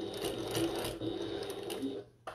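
A sewing machine stitches a fabric bucket tote around its curves, a steady close mechanical whir that runs under a speaking voice and cuts out near the end.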